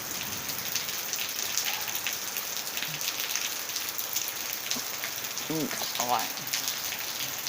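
Steady rain falls on Koh Kradaeng island, a continuous hiss of drops on surfaces with faint scattered patters, while a person briefly speaks softly near the end.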